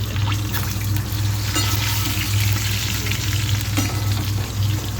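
Fish pieces frying in oil in a wok, a steady, loud sizzle that runs continuously throughout with a low constant hum beneath it.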